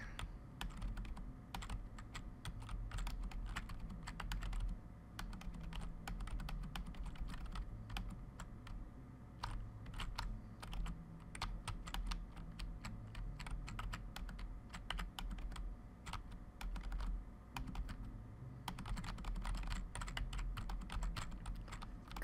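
Rapid computer mouse and keyboard clicks while playing the horror game Silver Creek Falls, a steady close patter of sharp taps running continuously with no voice.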